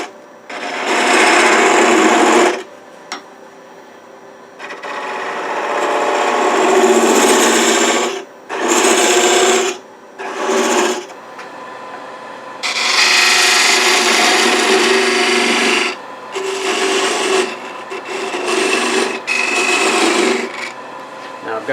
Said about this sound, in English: I'm going to use detail spindle gouge to get in there since I'm going deep.